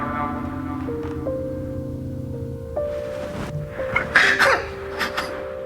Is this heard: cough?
yes